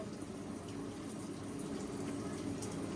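Hot water running at about 5.25 gallons per minute from a Rheem water heater system with a dropping flow rate, a steady hissing rush of flow under a faint hum, continuous and even throughout.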